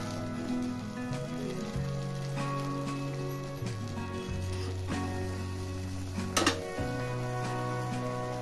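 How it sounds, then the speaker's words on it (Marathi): Kolhapuri-style matki usal, a sprouted moth bean curry, comes to a boil in a pot over a high flame, with a steady rain-like bubbling throughout and music playing in the background. "आता उकळी आलेली आहे"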